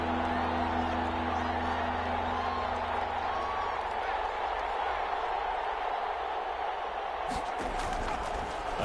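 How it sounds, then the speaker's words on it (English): A football stadium crowd roaring steadily ahead of a big third down, a broad sustained wash of noise under a commentator's voice, with a sharper burst near the end. "the crowd getting into it as we come up on a big third down"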